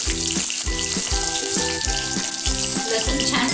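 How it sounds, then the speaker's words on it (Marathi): Garlic frying in hot oil alongside mustard seeds, cumin and curry leaves, a loud steady sizzle punctuated by regular rhythmic stirring strokes against the pan, no talking. "लसूण छान परतून घेऊ।"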